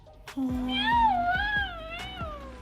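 A toy cat lets out a single drawn-out, wavering electronic meow up close, lasting about two seconds and sounding clear and fairly loud, with no talk.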